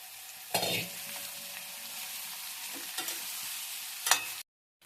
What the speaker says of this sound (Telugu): ఇది కూడా ఆనియన్స్ ఫ్రై అవుతుంది కాబట్టి నేను కొంచెం ఫ్రై అవ్వగానే కాకరకాయ వేసేస్తాను.